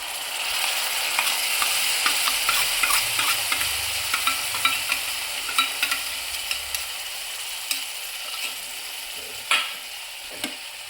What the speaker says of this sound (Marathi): आपण चांगलं आता मिश्रण हलवून घेऊया